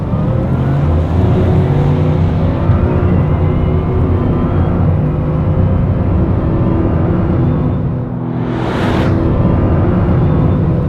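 A Bugatti Chiron Pur Sport heard from inside while being driven: a loud, steady engine drone with road roar and a brief whooshing swell near the end, no voice over it.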